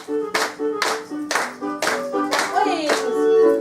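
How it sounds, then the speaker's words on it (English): Eight sharp hand claps ring out in an even rhythm over sustained musical tones, crisp and close, with no speech. "clap 8 times"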